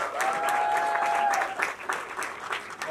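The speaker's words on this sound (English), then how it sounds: "Can we have a huge round of applause for these young masterminds?" An audience at a music video launch applauds young music composers, clapping steadily for a few seconds with a faint whistle or tone early on, then thinning into scattered claps.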